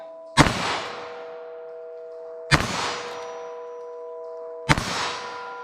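Three loud, sharp gunshots from a short-barrel .22 Magnum revolver fired into ballistic gel, evenly spaced about two seconds apart, each with a ringing, metallic decay.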